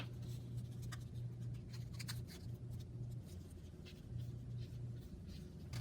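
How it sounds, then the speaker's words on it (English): Paper is rolled tightly around a pencil in a craft project, giving soft, close rustling and scraping strokes in short bursts over a low steady hum, with no voices. "rolling this piece of paper around my pencil"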